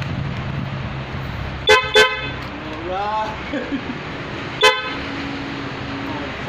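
A Yamaha Mio i 125 scooter with an upgraded alarm gives three loud, short horn honks: two quick beeps close together, then a single beep a few seconds later. A person speaks briefly between the honks.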